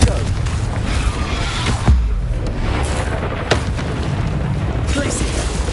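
Confringo spells explode amid rapid-fire spellcasting in Hogwarts Legacy on PS5, heavy booms and bursts layered over a constant roar of game battle noise, one jolt near the start and another midway.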